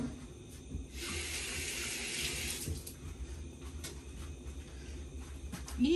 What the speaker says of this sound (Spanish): Ahora voy a lavar mis manos.